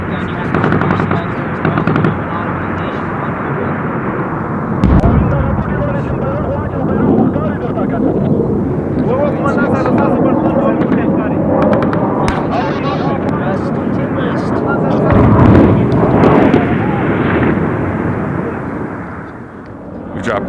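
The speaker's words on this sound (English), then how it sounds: "We've dropped a 500-pounder, a 250-pounder, put suppressive fire down" Heavy explosions and bursts of suppressive gunfire echo through a valley in Afghanistan, rumbling continuously with dense irregular cracks and booms, loud and sustained, with voices mixed in.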